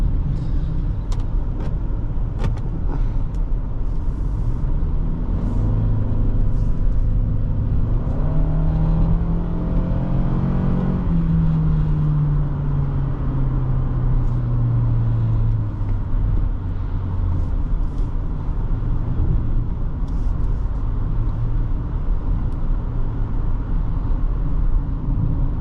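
A 2023 Toyota Sienna LE Hybrid minivan drives along with a continuous loud low road and engine rumble, a rising then falling whine swelling briefly in the middle.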